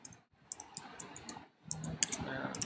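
Quick bursts of close computer keyboard typing, crisp clicking keystrokes in short runs separated by brief pauses, with no talking.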